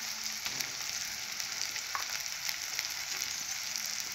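Ginger and garlic frying in a pan for an okra dish, a steady bright sizzle with a few faint stirring clicks, close and continuous with no voices.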